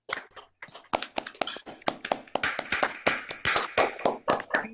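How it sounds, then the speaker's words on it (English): Many people on a video call unmute and clap at once, a dense, ragged patter of close hand claps with uneven bursts that builds and keeps going without speech. "I'm going to invite you all to unmute yourselves all at once and to clap"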